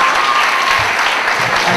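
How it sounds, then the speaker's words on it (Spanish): Conference audience giving a short burst of steady applause for a helper, a dense, fairly loud clapping wash with no talk over it. "Un aplauso para el Fernando."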